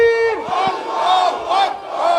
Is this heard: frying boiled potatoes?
no